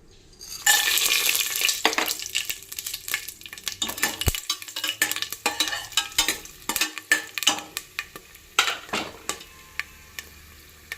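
Whole spices frying in oil for mutton keema biryani: bay leaf, star anise, cardamom, cinnamon, cloves and mace. A sizzle rises over light background noise, then a run of close clicks and scrapes from stirring.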